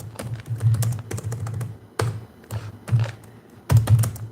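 Typing on a computer keyboard, close and clear, with bursts of rapid key clicks separated by short pauses.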